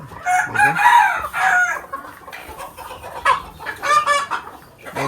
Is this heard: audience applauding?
no